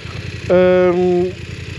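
A BMW F 850 GS Adventure 2022 twin-cylinder motorcycle engine sounds close and steady, a strong even hum holding for under a second before easing back to a lower murmur.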